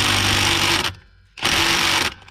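A battery-powered tool drives a brake line bracket bolt on a Toyota Camry during rear wheel bearing work, with two short, loud, close whirring bursts separated by a brief pause.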